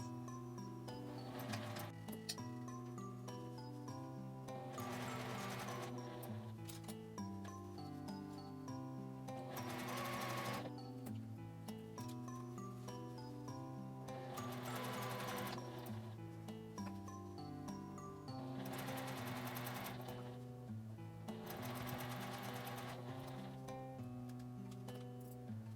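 Sewing machine stitching around the edge of quilted nubi fabric for a phone shoulder bag, a steady rapid mechanical patter running throughout under soft background music.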